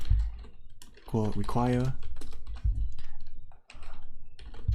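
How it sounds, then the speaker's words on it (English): Code typed on a computer keyboard, quick keystroke clicks continuing under a man's speech, close and moderately loud. "Type const start command"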